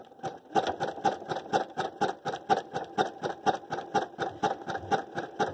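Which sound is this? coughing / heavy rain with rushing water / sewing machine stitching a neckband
sewing machine stitching a neckband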